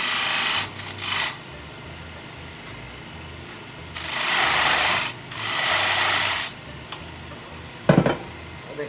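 A 3/8 gouge carves into wood in several short scraping and shaving strokes, two longer pushes in the middle, with a sharp knock near the end, close by and fairly quiet.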